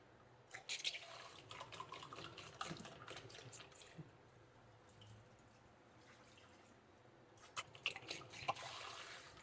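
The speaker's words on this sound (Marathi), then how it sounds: "आणि त्यामध्ये बुडाला पाणी टाकून देते अगोदर" Water splashes and trickles into a wok in short bursts, quiet and close, with pauses between pours and drips.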